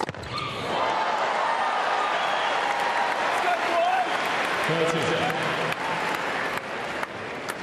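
A large crowd at the Laver Cup 2018 tennis event applauds loudly and steadily, a dense wash of clapping and cheering that fills the space throughout.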